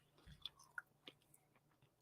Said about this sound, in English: So I'm chewing some food.